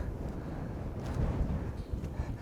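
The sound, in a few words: wind blowing on a windy day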